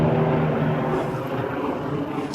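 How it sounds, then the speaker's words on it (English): A steady, loud helicopter drone with a low engine hum, holding close overhead the whole time with no voices. "hold on, let this helicopter pass by."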